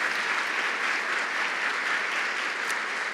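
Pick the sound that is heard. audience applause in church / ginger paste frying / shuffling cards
audience applause in church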